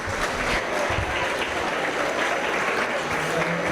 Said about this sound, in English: Let's give him a round of applause as they exit the ring.